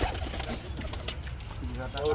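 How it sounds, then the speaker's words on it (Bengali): Lal dom pigeons kept for sale coo softly in short, low bursts while a person talks over them nearby. "লালদম পায়রা"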